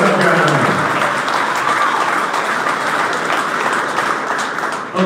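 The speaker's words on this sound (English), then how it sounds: "Once again, round of applause for that lady," A crowd at a captains' meeting breaks into sustained applause for a woman, dense and loud, with voices and chatter mixed into the clapping throughout.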